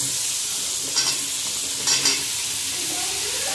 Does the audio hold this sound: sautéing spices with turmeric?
yes